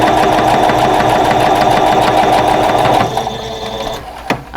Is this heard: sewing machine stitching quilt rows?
yes